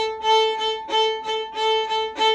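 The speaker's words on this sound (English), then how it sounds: "that's the sound of Irish fiddle playing to me" An Irish fiddle plays a lively, repeated bowed figure, each stroke pulsing in a steady rhythm with a ringing drone note underneath, close and clear.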